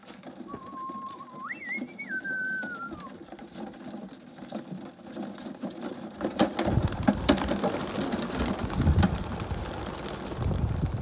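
Young racing pigeons are released, and a whistled note gives way midway to a sudden loud flurry of flapping wings that continues to the end.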